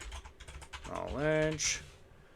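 Rapid computer keyboard typing clatters at close range during a World of Tanks session, with a voice speaking over the clicks partway through.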